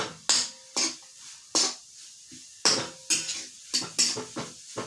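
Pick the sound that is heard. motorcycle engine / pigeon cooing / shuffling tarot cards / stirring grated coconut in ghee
stirring grated coconut in ghee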